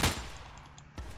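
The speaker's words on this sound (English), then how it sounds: "Where do I hear the shots?" Gunshots in the shooter Crossroads Warfare, two sharp reports about a second apart, the first louder and closer, the second a little softer, each trailing off into a brief echo.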